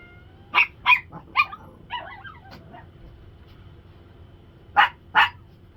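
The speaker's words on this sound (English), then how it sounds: "Your bark is so much. It is so loud." A dog barks loudly and close by: a few sharp barks, a short run of higher yips, a pause, then two more barks.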